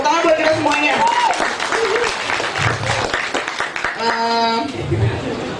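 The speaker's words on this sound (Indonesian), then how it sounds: "Tepuk tangan buat kita semuanya." Applause and clapping from an audience at a company Christmas celebration, rising under music and a loud voice, with distinct hand claps and crowd noise throughout.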